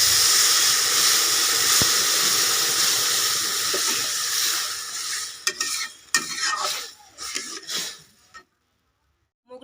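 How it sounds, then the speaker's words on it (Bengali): Mung dal fried reddish in ghee, with water poured in: loud broad sizzling and hissing steam at close range, fading into a few sharp spits and sputters before cutting out. "মুগ ডালটাকে একটু লাল লাল করে ভালো করে ভেজে নিয়েছি। এবার দিয়ে দেব জল।"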